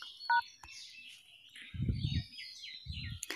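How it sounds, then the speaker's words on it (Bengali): Telephone keypad DTMF tones as a mobile phone dials the bKash code *247#: a short, sharp beep near the start and a brief click, then a quiet stretch with faint chirpy background sounds. "আপনি বিকাশের কোড *247# দিয়ে ডায়াল করবেন"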